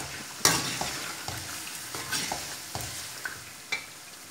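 Potatoes are stirred into a spice masala in a pan for aloo methi. A spoon scrapes and knocks in irregular strokes over a soft, continuous sizzle.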